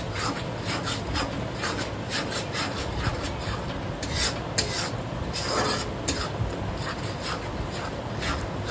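Chicken pieces being mixed with chaat masala for chicken 65 and chicken fry masala, a steady close rubbing and rasping stir that runs throughout with small scraping accents and no talk.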